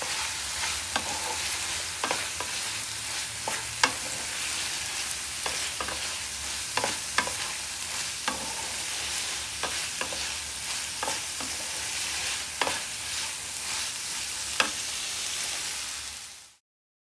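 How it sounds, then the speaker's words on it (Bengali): Ivy gourd and potato curry stirred in a frying pan, a steady sizzle with repeated scraping strokes of the spoon throughout, close and fairly loud, with no talking. "ও, এই তরকারিটা হয়ে এসছে, দাঁড়া ঘুরিয়ে দেখায়।"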